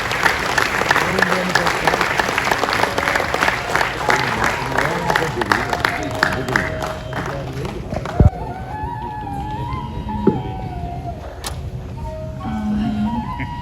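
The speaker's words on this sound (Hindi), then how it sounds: "एक बार जोरदार तालियां और उठनी चाहिए।" Loud audience applause at a Gurjar community convention and lawyer forum in Delhi, a dense burst of many hands that fades after several seconds. Voices and scattered crowd noise follow, with a couple of sharp knocks.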